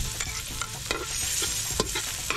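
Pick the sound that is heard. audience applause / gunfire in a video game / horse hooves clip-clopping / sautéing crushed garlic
sautéing crushed garlic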